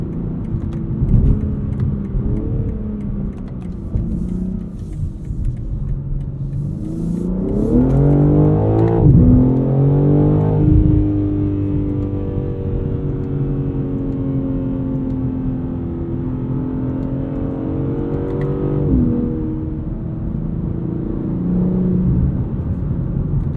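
A 2023 BMW M3 Competition xDrive Edition 50 Jahre heard from inside under hard acceleration, the engine note rising through the gears with shift breaks, loud and close over road rumble, no speech.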